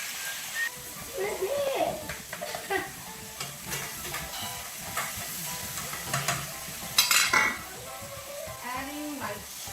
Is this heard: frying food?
yes